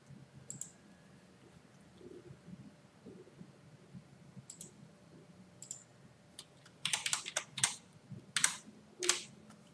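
Keys click on a Windows 10 computer keyboard: a few sparse taps at first, then a quick burst of louder, closer keystrokes near the end, with no talking.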